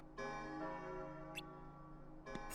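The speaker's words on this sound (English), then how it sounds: "The bell!" A resonant bell tolls once in the Kingdom Hearts Re:Chain of Memories video game as a boss fight begins, its long ringing tone sustained and decaying, with faint higher chimes over it.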